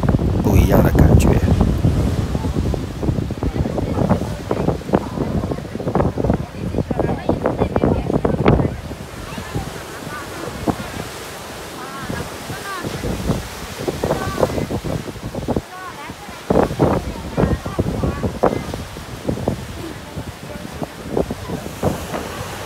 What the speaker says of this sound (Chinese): 你看这个海浪，听涛，看海浪